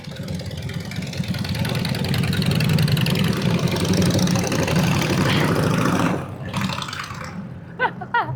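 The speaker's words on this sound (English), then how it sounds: "Sorry if you can hear these motorcycles." Motorcycles driving by on a city street, a loud continuous low engine rumble that holds steady for about six seconds before dropping away, followed by quieter background noise.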